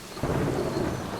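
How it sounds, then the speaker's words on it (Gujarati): A cartoon thunderstorm effect with heavy rain, where a sudden rumble of thunder breaks out over a dense wash of rainfall in one short, loud burst. "પછીના 3 દિવસ સુધી સતત ભારે વરસાદ પડતો રહ્યો"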